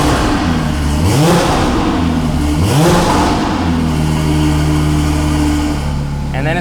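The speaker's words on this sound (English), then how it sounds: "I've studied every exhaust on the market for this car, and this is by far the best sounding one" A Porsche with an aftermarket exhaust in sport mode revs twice with loud, deep, rising blasts before settling into a steady, throaty idle, recorded up close.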